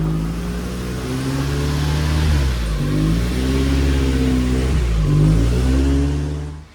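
A Mazda Miata race car engine revs loudly up and down at close range, its pitch climbing and falling in repeated surges without any voices.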